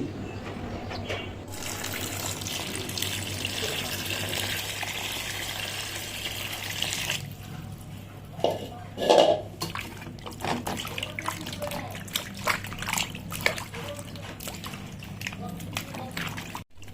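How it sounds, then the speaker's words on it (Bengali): Raw green mangoes washed in water, with running and sloshing water and splashes, a burst of handling midway, close by, while a person talks over much of it. "আমগুলোকে এখন আমি ভালো করে ধুয়ে নিচ্ছি"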